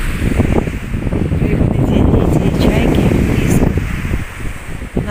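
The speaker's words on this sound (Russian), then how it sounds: "Ветер." Strong wind buffets the microphone on a near-empty seaside embankment, a steady loud broadband roar with faint surf and rustling underneath throughout.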